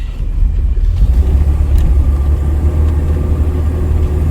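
A 1973 Jaguar Series 2 short-wheelbase engine pulls hard up a steep hill, giving a loud, steady low rumble that holds even throughout.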